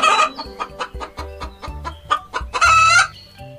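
A hen clucks in a rapid run of sharp, evenly spaced clucks close up, framed by louder drawn-out squawking calls at the start and near the end.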